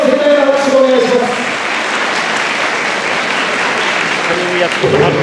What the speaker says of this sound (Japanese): 今一度盛大な拍手をお願いします